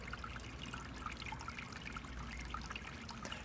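A Bernini Piccolo self-contained fountain tower with spray tips trickles and splashes steadily. The flow is soft and continuous, with no voices over it.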